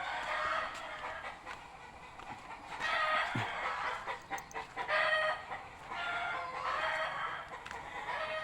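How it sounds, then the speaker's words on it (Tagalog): Several chickens cluck and squawk continuously at moderate distance, with a rooster's crow rising through the noisy outdoor flock. "Ang iingay ng mga manok talaga."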